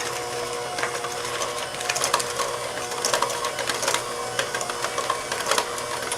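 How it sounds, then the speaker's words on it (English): An electric mixer beats cookie dough for sprinkled cookie sticks, a steady mechanical whir with rattling, uneven bursts as the beaters work the crumbly mixture, close and continuous with no talking. "Now let's use the electric mixer."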